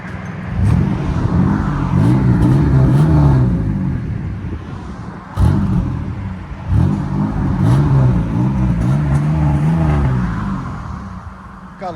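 A 2002 Chevy Camaro with a 3.8L V6 and Cherry Bomb Pro muffler, warmed up and rumbling loudly and close at idle, with rising blips of throttle and a few sharp breaks in the exhaust note.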